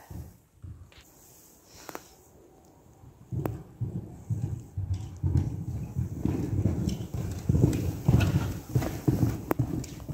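Horse hooves clip-clopping at a steady, even trot during a riding lesson over a gymnastic grid, a continuous rhythmic beat that grows louder and closer as the clip goes on.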